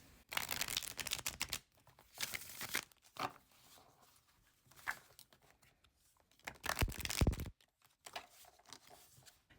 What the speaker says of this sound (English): so let's shuffle these and get our message for the collective from Hades